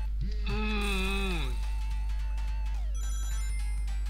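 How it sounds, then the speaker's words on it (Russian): Ringtone of an incoming phone call chiming over a Sonic The Hedgehog 2 game soundtrack, a short melodic rising-and-falling ring lasting about a second, followed by steady game music and beeps. "ну мне звонок"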